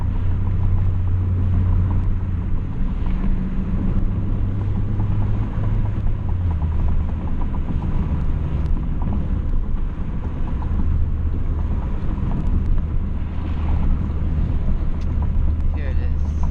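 A 2012 Honda Fit with an aftermarket Beatrush engine mount and Spoon rigid collars, its engine droning steadily from inside the cabin while driving, with a low rumble throughout and someone talking over it.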